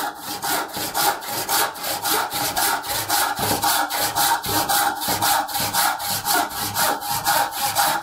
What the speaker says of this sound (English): Just going to follow it down on my side, steering the saw so that it stays on that line.